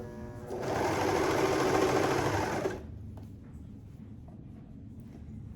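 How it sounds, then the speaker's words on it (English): A sewing machine runs close by for about two seconds, a steady whirring hum as it stitches the lining and main fabric seams together, then stops, leaving a quiet room. "I'm just sewing along"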